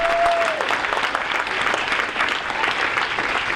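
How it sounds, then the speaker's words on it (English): An audience at a 2018 fall sports awards night applauds the coaches, a full, steady wash of many hands clapping that holds at an even level throughout, with a brief tonal sound at the very start. "how about a round of applause for our coaches and all that they do for our kids"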